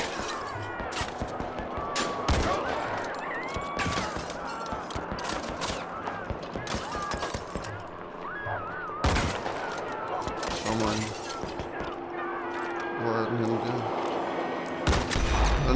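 Bursts of gunfire fill a Sniper Fury mobile shooter battle, with sharp repeated shots, heavy cracks and crashes going on throughout. Voices and game effects are mixed in under the shooting.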